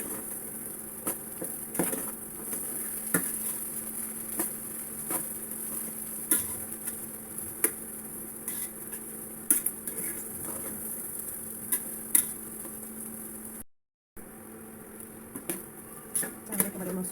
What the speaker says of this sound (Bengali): চাল একেবারে মচমচে করে ভাজা হয়ে গেল।